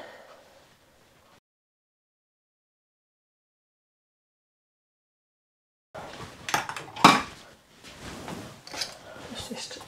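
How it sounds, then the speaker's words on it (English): A spoon scraping the last whipped cream out of a bowl onto an air-fryer meringue pavlova, several seconds of near silence and then close, repeated clinks and scrapes of metal on the bowl. "let's just empty the bowl"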